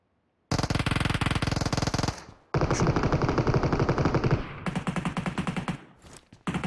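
Rapid bursts of Uzi submachine gun fire in PUBG Mobile, loud and close, with three long sustained strings of shots separated by brief pauses and ending in a few short bursts, no talking over it.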